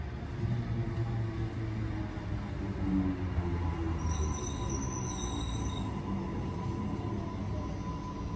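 A Sydney suburban train runs through Roseville station during the morning peak, a steady rolling rumble of wheels on track with a high squeal of wheels partway through, heard without talk.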